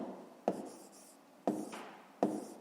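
Handwriting on paper while working a fifth-grade maths exercise, with three soft close taps followed by faint scratching strokes, quiet and without talk.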